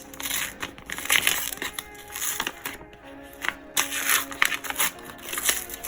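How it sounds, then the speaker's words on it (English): A paper envelope of handmade zine mail is torn and peeled open, giving close, crisp crinkling and ripping bursts with brief pauses between them. "Is the sound of an envelope opening like ASMR for anyone or just me?"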